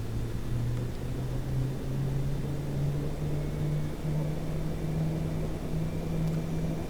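The engine of a simulated Dash 8-100 turboprop in X-Plane 12 spools up during start, a low, steady drone with a tone that slowly climbs, heard alone and fairly quiet.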